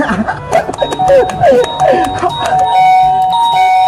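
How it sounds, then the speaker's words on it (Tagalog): A doorbell is pressed repeatedly, giving a quick run of bright chiming tones that repeat in bursts, then ends in a sustained ringing tone. "Pipindutin ko yung doorbell nila ng paulit-ulit."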